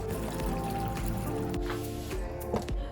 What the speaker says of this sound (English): I'm adding more water to the chicken